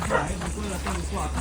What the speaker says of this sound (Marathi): कुत्रा भुंकतोय कुत्रा भुंकत होता